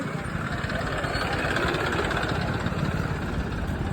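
A motorcycle engine idles close up, a steady low chugging throb that holds constant throughout.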